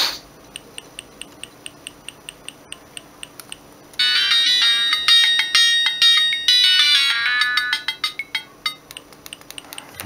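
A polyphonic ringtone melody plays on a Siemens C75 mobile phone, starting with a sparse, steady ticking pulse and then breaking into a loud, bright, busy tune of rapid chiming notes that runs to the end.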